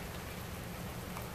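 Steady, soft patter of rain falling, a continuous dense hiss with no voices.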